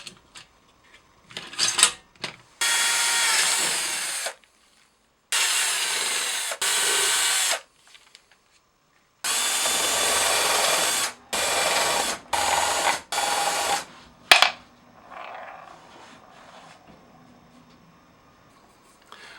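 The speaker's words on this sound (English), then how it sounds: "So now I'm going to drill some holes and put these where I want them." A power drill whirs in several bursts of a few seconds each, boring holes into a wooden cigar box, with quiet pauses and small handling knocks between runs.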